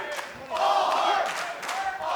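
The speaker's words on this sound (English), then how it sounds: "as the crowd gets behind Blake here" Wrestling arena crowd during a Blake Christian versus Samoa Joe match, rising into a swell of cheering and shouting that holds for about a second, then dips and builds again, filling the hall at moderate volume.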